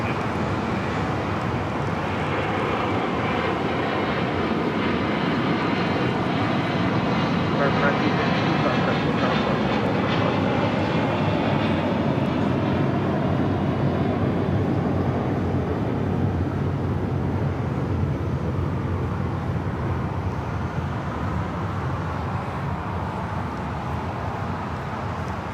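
Airliner departing on a flight to Charlotte, its jet engine roar steady and broad across the whole stretch, swelling slightly and easing toward the end, at moderate distance.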